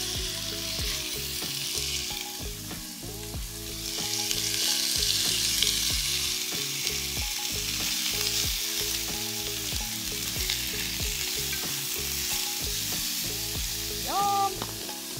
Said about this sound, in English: And I'm gonna go ahead and add the pork into this really hot pan.